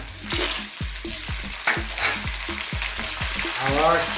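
Squid and clams fried with onion in a pan, giving a loud, steady sizzle beneath repeated scraping stir strokes, close up and continuous with no speech.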